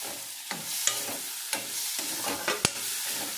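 Cauliflower Maggi masala curry frying in a pan, a close steady sizzle with repeated spatula scrapes and knocks against the pan, one sharp clack near the end; no voices.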